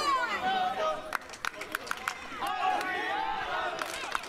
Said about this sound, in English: The crowd here at the historic Dockyard in Chatham, Kent, firmly behind Adriano and letting him know about it.